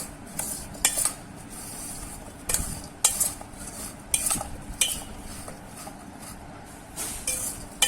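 A spoon scrapes and clinks against a bowl while salted sour raw mango pickle is mixed by hand, in repeated close stirring strokes with sharp metallic clinks over a steady background.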